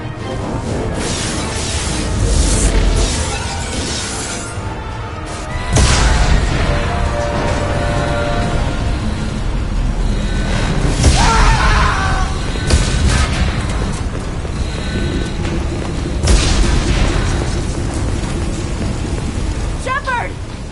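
Loud booming blasts and rumbling crashes of a starship hull being breached in the Mass Effect 2 video game, repeated heavy impacts over a continuous roar, with voices talking throughout.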